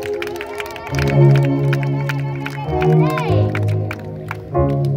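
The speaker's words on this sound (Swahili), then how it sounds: "Shangilie Bwana kwa makofi na vigelegele" A church congregation clapping and ululating in praise, with rhythmic hand claps mixed into crowd noise, trilling voices and a loud voice carrying over it all.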